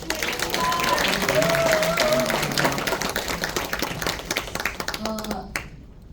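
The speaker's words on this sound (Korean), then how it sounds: "박수 한번 쳐주십시오." An audience at a lecture on disability policy breaks into applause, a dense wash of clapping that slowly thins into scattered claps, with a voice briefly audible amid it.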